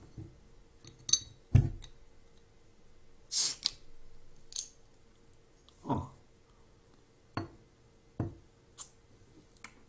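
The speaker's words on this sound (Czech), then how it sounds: "Nejdříve si pivo otevřeme." A beer bottle is opened, giving a sharp cap pop followed by scattered light clinks and taps of glass and metal in a quiet room, with no talking.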